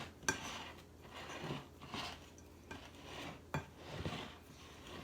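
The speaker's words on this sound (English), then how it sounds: "You're cutting fat into flour." Butter being cut into flour in a bowl with a pastry tool, soft repeated scraping and occasional sharp clinks against the bowl at an irregular rhythm, close and fairly quiet.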